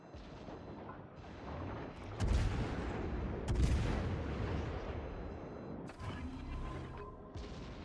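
Drop bombs going off in a video game on a beach target: a dense wash of booming blasts and crackling gunfire, with heavy impacts standing out near the two- and three-and-a-half-second marks, loud and continuous throughout.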